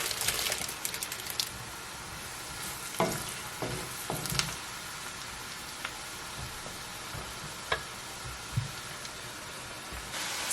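Onions frying in butter in a pan for crockpot stuffing, giving a steady close sizzle with occasional louder pops and stirring clicks, no talking.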